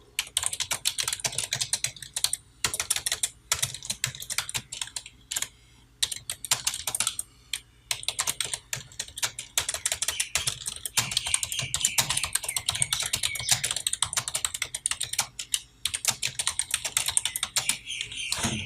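Continuous typing on a computer keyboard, crisp close clicks in long irregular runs broken by brief pauses, steady for nearly twenty seconds with no voices.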